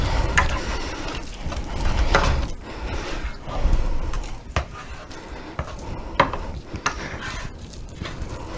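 A spoon scrapes and knocks through thick cream puff dough in a pot, giving irregular clacks and scuffs against the pot with sharper taps scattered throughout, close and fairly loud with no talking.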